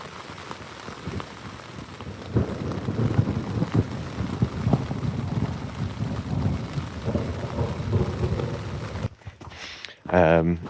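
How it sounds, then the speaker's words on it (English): Steady rain pours down on the Pacific Crest Trail while deep thunder rolls and rumbles throughout, and a brief voice is heard near the end. "it started raining and the lightning got brighter and the thunder got louder"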